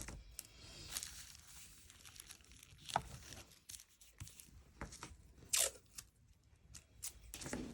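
Sticky tape being pulled, torn and handled close by: sharp rips and crinkles come in irregular bursts over a quiet background, with no talking.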